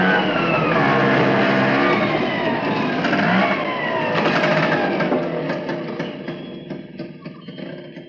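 An auto rickshaw engine runs loud and close, revving with a buzzing mid-pitched drone that rises and then slowly fades as it pulls away. No one speaks.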